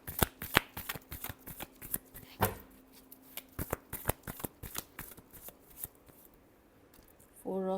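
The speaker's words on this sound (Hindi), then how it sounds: "last shuffle," Tarot cards are shuffled in a rapid run of crisp riffles and flicks, close and fairly loud, fading to softer handling before a final burst of card noise.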